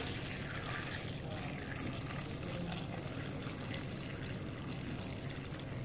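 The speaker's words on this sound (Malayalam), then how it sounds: "വെള്ളം ചേർത്ത് കൊടുക്കാം" Water being poured over jackfruit seeds with salt, a quiet continuous splashing trickle with no talking.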